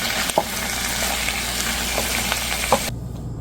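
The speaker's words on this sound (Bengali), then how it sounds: "জাস্ট একটু গরম করে নাড়াচাড়া দিয়ে নামিয়ে ফেলবো।" Boiled chickpea bhaji being heated and stirred in a pan, a steady sizzle with a few spoon scrapes against the metal, close and fairly loud, ending abruptly.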